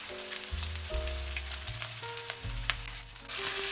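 Yellow croaker going into hot oil with shallots, ginger and garlic, a soft continuous sizzle under steady background music, swelling louder near the end.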